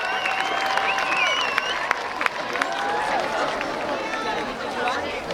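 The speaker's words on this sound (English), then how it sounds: "Give us all a big round of applause for this incredible event." A crowd at a school Independence Day ceremony claps and cheers in a broad, sustained wash, with chatter and high voices mixed through the noise and occasional sharp individual claps.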